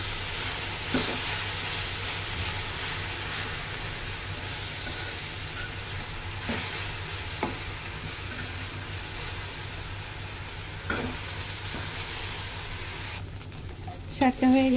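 Leafy greens fry with salt in a pan, a continuous loud sizzle with occasional scraping stirs, ending in a few sharp clatters.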